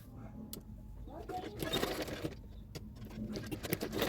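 A sewing machine runs quietly while stitching along the folded edge of a Katori blouse's lining fabric, a soft, continuous mechanical whir with faint clicks in a calm room.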